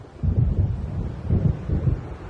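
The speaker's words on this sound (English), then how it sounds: "It seems there's a storm coming." Rolling thunder from an approaching storm over open sea in a video game, low deep rumbles swelling in a few waves, loud and close with no voices.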